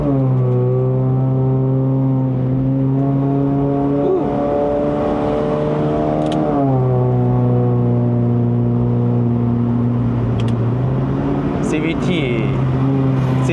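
A Honda City Hatchback GN5 with a 1.5L engine revs hard, its strong harmonic drone climbing and then dropping sharply at each gear shift around 4000 rpm, heard loud from inside the cabin on a mountain run in Malaysia, with occasional voices.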